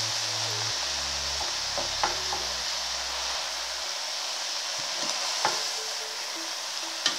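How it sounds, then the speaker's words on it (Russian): Cabbage stewing in a pan is stirred, with a few scrapes and knocks over a broad, constant sizzle and hiss. "Еще раз помешаем."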